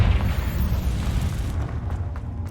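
A Confringo fire-blast spell exploding in the video game Hogwarts Legacy, a heavy rumbling boom that rolls on for over a second and then fades into a lighter crackling tail.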